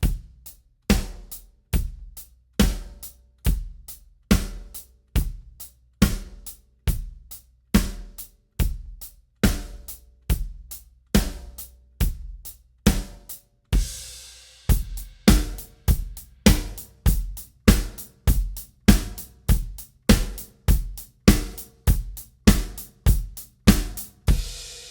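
A drum kit plays a classic four-on-the-floor beat, with a kick drum on every beat, the snare on two and four, and steady hi-hat, all in a tight even rhythm that runs for the whole stretch.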